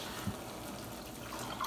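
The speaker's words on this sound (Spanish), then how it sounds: "Y vamos a echar 2 y media de agua," Water is poured into a pan holding a cup of white rice, giving a steady, moderately faint splashing stream that runs throughout with no talk over it.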